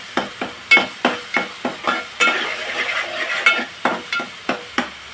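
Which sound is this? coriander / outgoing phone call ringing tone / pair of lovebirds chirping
coriander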